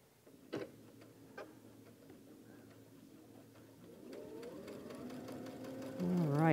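A sewing machine stitches a quilt block using a quarter-inch flanged foot, its motor starting partway through and running in a steady mechanical whir that rises in speed and pitch, after a few soft clicks and taps.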